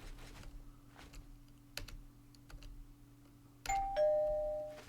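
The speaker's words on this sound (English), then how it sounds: "this doorbell actually has a function where it resets this area" A shop doorbell in Elder Scrolls IV: Oblivion rings out with a bright sustained chime near the end, after soft scattered clicks over a steady low hum.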